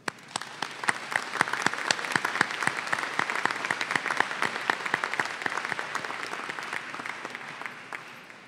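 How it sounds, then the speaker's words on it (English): A commencement ceremony audience applauds in sustained, dense clapping at moderate volume for over eight seconds, slowly thinning toward the end. "Please give all those who have supported you during these years a round of applause."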